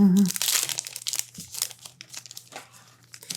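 A trading card booster pack wrapper is torn and opened: close, loud crinkling and tearing plastic at the start, then softer rustles and crackles, with a brief voice at the very beginning.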